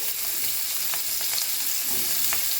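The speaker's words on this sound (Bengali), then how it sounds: "এবার ওই তেলের মধ্যে একটু পেঁয়াজ কুচো দিয়ে দিচ্ছি" Chopped onion sizzles loudly in hot oil left in a pan after frying fish, a dense steady frying hiss with occasional soft stirring scrapes and no talking.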